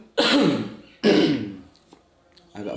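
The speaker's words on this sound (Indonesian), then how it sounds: "Agak batuk-batuk." Two harsh coughs close to the microphone, about a second apart, followed by quieter breathy sounds and a short trailing noise.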